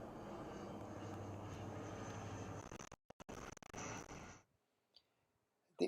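Precision Aerobatics Katana 60 RC aerobatic airplane flying, its engine buzzing steadily at a moderate distance before cutting out abruptly into near silence.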